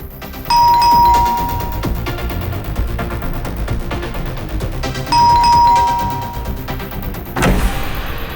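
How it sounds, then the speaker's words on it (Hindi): An indoor doorbell rings twice, each time a clear electronic ding-dong chime, the second ring a few seconds after the first, followed by a short rustle. "कितना घंटी बजाते हो?"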